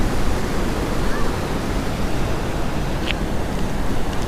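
Water rushing through the partly opened gates of a hidden check dam, a steady broadband roar that stays constant throughout, with no voices over it.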